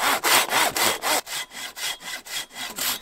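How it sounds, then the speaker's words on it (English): A handsaw cuts through a dead tree at a wilderness campsite in quick, regular back-and-forth strokes, about a dozen rasping pulls, close by and with no talking. "one guy sawing wood"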